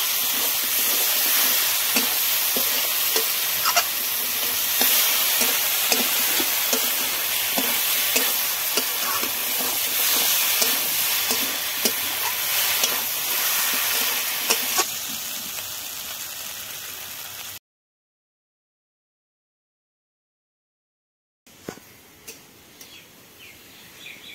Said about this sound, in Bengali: আমি ভাজা আলুটা দিয়ে দিচ্ছি এর মধ্যে। একটু কষিয়ে নেব মশলাটা দিয়ে।